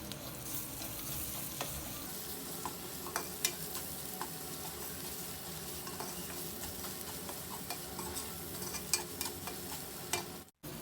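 Onions with ginger-garlic paste fry in a pan, giving a dense, steady sizzle with occasional crackles and faint stirring clicks, close up and continuous.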